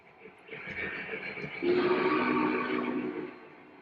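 A toy train running on a home layout powered by post-war ZW transformers, with a rolling rumble that swells and a sustained horn-like tone midway, moderately loud and close.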